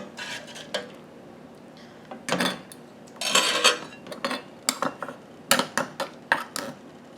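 Candied jalapeno peppers being pressed down into glass jars with a utensil, giving a series of scraping, clinking knocks of metal against glass and jar lids, irregular and fairly close, with a louder cluster in the middle and no talking.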